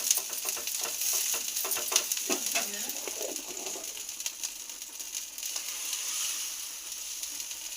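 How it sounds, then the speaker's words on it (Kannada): Dosa batter sizzles on a hot pan with a steady, bright hiss and crackle throughout, close and moderately loud, with faint bird calls in the background. "ನಾನಾದರೆ ದೋಸೆ ಹಾಕ್ತಾ ಇದ್ದೀನಿ"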